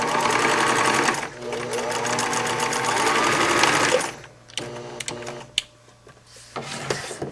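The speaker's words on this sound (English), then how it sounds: "Now I'm going to sew the strip of ribbing into a tube." A sewing machine runs loud and steady, stitching a strip of ribbing into a tube, for about four seconds, then slows to short bursts with a few clicks and knocks.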